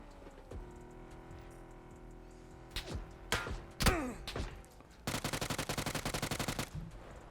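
Gunfire in the video game PUBG: scattered single shots and thuds, then a loud rapid burst of automatic fire toward the end, over a low vehicle engine hum, with no talking.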